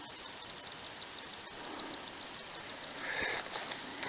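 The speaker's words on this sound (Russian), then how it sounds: "И звук природы, птицы там на пляже, там на песке" Small birds chirp and tweet faintly in the distance over a steady outdoor hush on a sandy beach by grassy water's edge, with repeated short high calls throughout.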